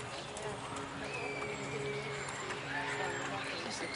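Hooves clip-clop in a steady trotting rhythm amid outdoor background noise, with people talking faintly nearby.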